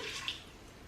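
Water pours briefly into an Instant Pot, a short splashy trickle in a quiet kitchen.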